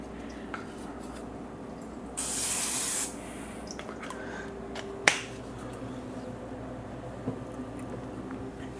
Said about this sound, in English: I like to spray it so that way it doesn't get stuck to it.